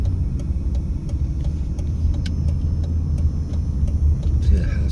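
A car drives through a Las Vegas neighborhood off Nellis Boulevard and turns north at a green light onto Christie Lane, giving a steady, close road rumble with faint ticking throughout.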